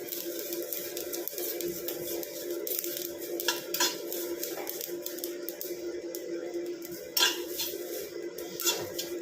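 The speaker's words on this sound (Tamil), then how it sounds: "இப்போ இது எல்லாத்தையும் சேர்த்து நல்லா ஃப்ரை பண்ணி எடுத்துக்கலாம்." Spatula scraping and stirring a black cumin mixture frying in an iron pan, a continuous run of close metallic clinks and scrapes with a soft sizzle underneath and occasional sharper knocks.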